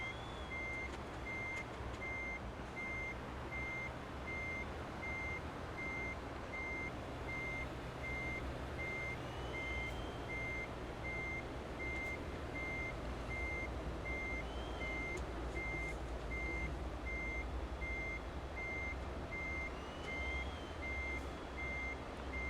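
Renault E-Tech T electric truck reversing in Euro Truck Simulator 2, a steady series of evenly spaced reversing beeps over a low continuous vehicle rumble, with no talk.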